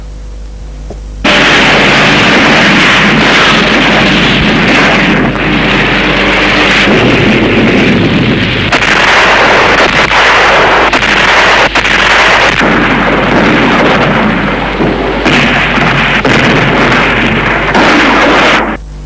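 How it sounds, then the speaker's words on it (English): Heavy aerial bombardment in a war setting, loud and continuous: dense bursts and booming explosions pile up over a steady low rumble for the whole stretch, with a few sharp cracks and no clear pauses. "supported by heavy aerial bombardment"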